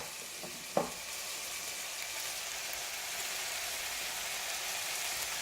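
Chicken and shrimp spring rolls simmering in a pan with soy sauce, giving a steady, even sizzle with a single small clatter near the start and no voices.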